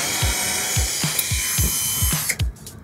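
Power drill driving screws during a DIY conversion of a police car into a gaming room: a string of about eight short, regular whirring bursts close by, each sweeping downward in pitch, with no talk.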